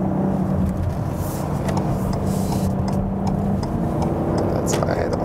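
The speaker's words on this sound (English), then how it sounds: "Now you hear that 3-cylinder sound." A Ford Focus ST-Line three-cylinder engine drones steadily from inside the cabin on a motorway, a low throbbing hum with road noise underneath.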